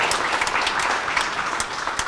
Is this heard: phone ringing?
no